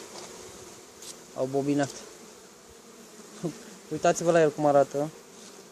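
Honeybees hum steadily inside an open hive box on a frame, a continuous near buzz running throughout while someone speaks over it in two bursts.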